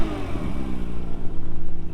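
A 2017 Acura NSX with its stock exhaust runs up close, a steady, mid-pitched engine drone that holds even throughout with a slight pulsing rhythm.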